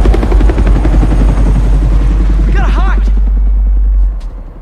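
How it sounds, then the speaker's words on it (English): Helicopter from the Spider-Man 2 video game, a loud close rhythmic rotor chop over deep rumble that fades out near the end, with a short whooshing swirl midway. "Oh my goodness, they sent the chopper after us."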